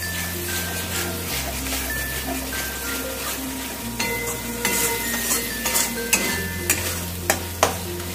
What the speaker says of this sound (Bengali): আমার এই মশলা কষানোর সময় কিন্তু গ্যাসের আঁচ আমি একদম লোতে রেখে দিয়েছি